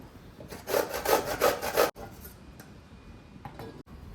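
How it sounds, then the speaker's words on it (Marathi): Coconut being grated by hand in a home kitchen, a quick run of about six rhythmic rasping scrapes close up, then quiet with a faint tap or two. "आता ही खोबरं मी किसून घेणार"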